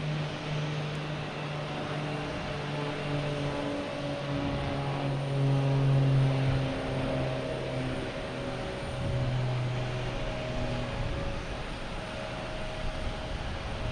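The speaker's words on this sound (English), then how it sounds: "Cape Air heading to Hyannis, Cessna 402." A Cape Air Cessna 402 twin propeller plane at Boston Logan, heading to Hyannis, drones with a steady buzzing propeller hum whose pitch wavers and rises and falls across the clip.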